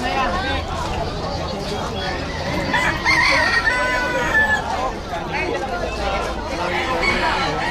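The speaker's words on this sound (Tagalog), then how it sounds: "Yung mga manok." Bantam chickens crow and cluck amid a noisy pet market in Malabon, Philippines, with people chattering in the background throughout.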